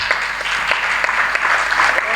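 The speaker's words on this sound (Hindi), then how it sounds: "यहाँ आपका प्रेम जो तालियों के रूप में हम कवियों को मिलता है" At a Hindi comic poetry gathering, the crowd gives the poets a sustained, fairly loud round of applause that stays even throughout.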